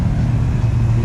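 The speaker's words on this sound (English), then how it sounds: "BMW pulling up." A BMW car pulls up nearby, its engine a steady low rumble that holds at a moderate level through a brief moment with no voices.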